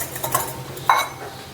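A spoon stirs instant coffee and powdered sugar together in a bowl, giving a few light clinks and scrapes against the side, close and quiet with no talking.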